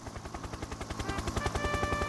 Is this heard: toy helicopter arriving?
yes